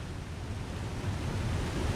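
Very loud waterfall in The Long Dark's Coastal Highway area, a dense continuous roar of falling water with strong low rumble, steady and alone, growing slightly louder.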